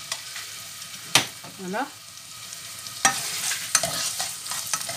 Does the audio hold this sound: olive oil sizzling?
yes